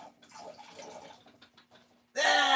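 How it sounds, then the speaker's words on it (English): Water pours and spills while a measuring cup is filled in a home kitchen, quiet trickles and drips, then a sudden loud splashing gush at the end. "Spilt water everywhere"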